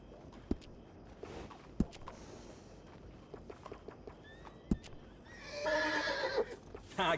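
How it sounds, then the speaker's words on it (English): Horse in the Red Dead Redemption 2 video game, hoof clip-clops sounding as a few sharp thuds, followed by a loud, near whinnying neigh near the end, alone without talk. "Hey, good-looking horse there."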